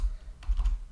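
A few quick keystrokes on a computer keyboard, soft and close, in under a second with no talking.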